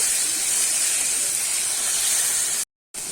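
Marinated chicken going into a hot pan for a Kolkata-style chicken roll filling, giving a loud, steady broadband sizzle that runs unbroken before a brief cut-out near the end.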